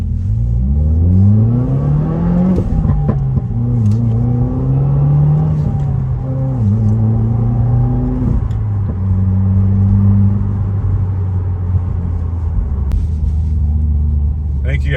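A 2021 Subaru WRX fitted with an STI short throw shifter driving along, its engine droning and rising through several gear changes, with steady road rumble and loud cabin noise throughout.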